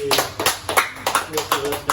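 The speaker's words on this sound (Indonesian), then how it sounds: "Sekali lagi tepuk tangan untuk Astrid." A small group claps for Astrid in a podcast studio, giving quick, rhythmic bursts of applause close to the microphone for a couple of seconds.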